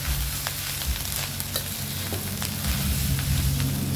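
Fried rice with fermented pork sausage (naem) sizzles and hisses in a hot iron wok while a utensil scrapes and tosses it in steady, close stir-frying strokes.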